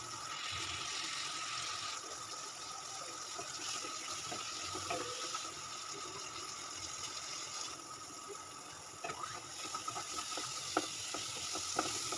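Turmeric and chili powder fry in a pan with a splash of water while being stirred, a soft, steady sizzle with scattered scraping clicks of the spoon, close and fairly quiet.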